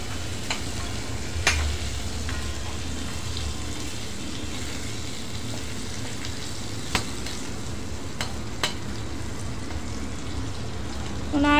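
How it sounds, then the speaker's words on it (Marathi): Raw mango pieces sautéing in a pan for a sweet-sour mango relish, a low continuous sizzle and frying hiss with a few sharp clicks of a spatula or spoon against the pan. "एक साधारण 3-4 मिनटं अशी कैरी परतून घ्यायची"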